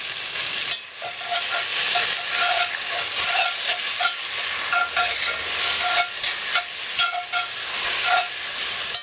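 Meat browns in a pan with a loud, continuous sizzle and hiss, broken by repeated stirring scrapes close to the pan.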